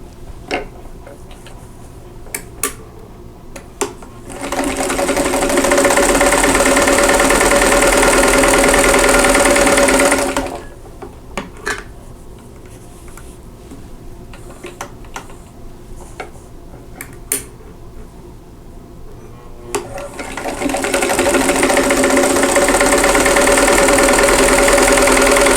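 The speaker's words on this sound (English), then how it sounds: "And swing around and sew the other side." A sewing machine stitches a quilt block in two loud, steady whirring runs of roughly six and five seconds, with quiet handling clicks between them and no talk.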